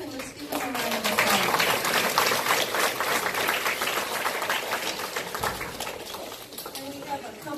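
An audience at a school Christmas chorus concert applauds a guest guitarist with a sustained wash of clapping that fades gradually, while a voice speaks over it.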